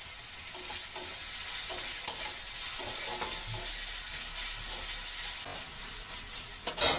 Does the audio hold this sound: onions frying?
yes